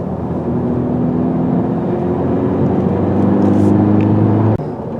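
A 2020 Honda Civic Si with a six-speed manual gearbox is driven hard, its engine droning loud and steady with a rising tone, then dropping sharply near the end as if on a gear change.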